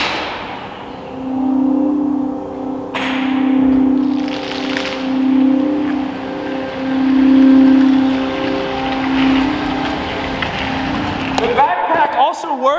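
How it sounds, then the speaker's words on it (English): A Hummer EV cold start produces a sustained pulsing electronic drone that swells and fades in slow waves. A bright high tone joins partway through, someone talks over it, and it ends abruptly. "This is a cold startup on a Hummer EV."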